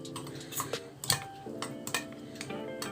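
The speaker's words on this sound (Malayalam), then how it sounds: "ഇത് ജസ്റ്റ് ഇങ്ങനെ ഒന്ന് നന്നായിട്ട് മിക്സ് ചെയ്ത് കൊടുക്കാം." A cornflour mixture being stirred in a bowl for a homemade hair-straightening pack, with a series of light clinks and taps of a spoon against the bowl over a background hum.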